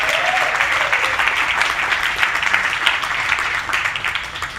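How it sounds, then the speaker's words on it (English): Loud, full applause from a conference crowd greets Mike Arrington, a thick continuous roar of clapping hands that holds steady and then gently tapers toward the end, with no talking over it. "give a round of applause for Mike"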